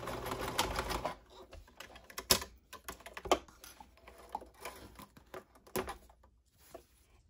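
A sewing machine backstitches the end of a seam on a fabric planner pen pocket, giving quiet, close bursts of rapid stitching separated by short pauses.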